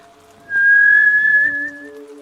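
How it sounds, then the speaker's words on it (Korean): A loud, clear sustained human whistle rises out of quiet for about a second and a half in a horror radio story, set between two people, then lower tones linger as it fades. "휘파람 소리가 정말 크고 선명하게 들렸습니다"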